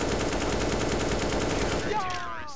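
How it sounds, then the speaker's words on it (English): Automatic rifle spray in Counter-Strike: Global Offensive, a dense burst of rapid gunfire filling the first two seconds, loud and close, then trailing off into game effects. "But good spray from Farron, who gets two and is looking for more."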